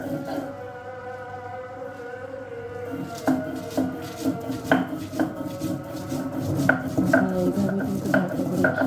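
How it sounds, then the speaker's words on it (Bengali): Fried shrimp ground by hand on a pata, a flat grinding stone: quiet at first, then repeated close knocks and scrapes in an uneven rhythm from about a third of the way in, over a faint tonal background. "প্রায় ভাজি হয়ে গিয়েছে, আমি এটাকে পাটায় বেটে নেব।"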